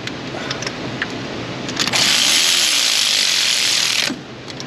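A ratchet wrench runs a bolt down its threads on a Chevrolet Silverado exhaust. A few light clicks lead into a loud, continuous buzzing ratchet whir lasting about two seconds, which then stops abruptly.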